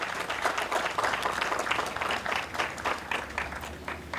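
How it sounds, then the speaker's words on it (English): An audience applauds for Elizabeth, an environmental pioneer being introduced at a speaking event; dense, steady clapping fills the whole stretch at moderate loudness, fading slightly toward the end. "Give a round of applause for Elizabeth"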